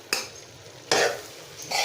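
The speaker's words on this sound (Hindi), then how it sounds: "अच्छी तरह से मिक्स कर लें।" A spoon stirs fried okra into a sizzling masala in a pan, making a few brief scraping strokes, close and clear, with quiet frying between them.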